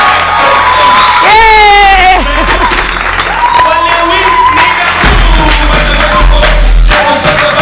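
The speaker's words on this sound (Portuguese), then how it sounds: "Eu quero o grito das garinas, eu quero o assobio dos homens" A lively studio audience at a live music show cheers and shouts loudly, with whoops, whistles and high-pitched screams rising over the din, and a voice calling out amid the noise.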